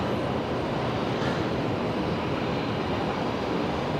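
A Qantas Airbus A330 landing at Brisbane Airport on return from Auckland: a continuous, loud broadband engine and air roar, steady throughout with no talk.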